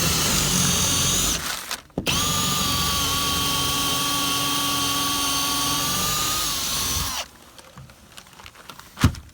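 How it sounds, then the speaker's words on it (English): A power drill with a 3/8 inch bit drives into a wood stud on a roof beside a brick wall, whining steadily and loudly for about five seconds after a brief start, then stopping abruptly. "So now we're going to drill it with a 3/8 inch bit here."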